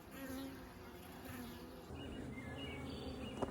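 Honey bees buzz steadily around backyard hive boxes, a faint, continuous hum of many insects close by, with a single soft knock near the end.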